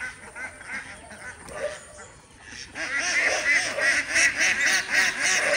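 Ducks near an old canal quack in repeated nasal bursts, sparse at first and then a dense, louder flurry of overlapping calls, with some human voice mixed in.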